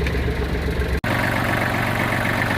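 A Kubota GL-32 tractor engine idles steadily with a low rumbling chug, briefly cutting out for an instant before continuing at the same level.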